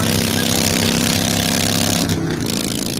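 A motorcycle engine runs steadily and loudly throughout, a continuous idle-like rumble with a brief dip near the end, no voices present.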